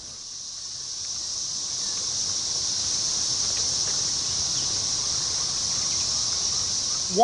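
Chorus of 13-year periodical cicadas in a forest: a dense, continuous high-pitched buzzing drone that holds steady and loud throughout, with a soft rustle or thump at the very end.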